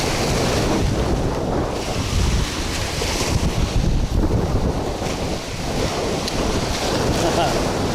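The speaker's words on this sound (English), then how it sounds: "That wind, man. Wind is definitely not helping us this morning." Strong wind blowing on the Florida Gulf Coast during a fishing trip, roaring in a steady, loud buffet across the microphone, with surf and water noise mixed underneath.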